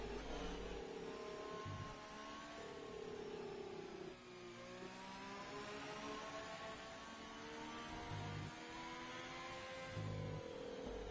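Formula racing car engine on a qualifying lap in a racing video game at Australia, revving up and down through gear changes with rising and falling pitch, loud and continuous.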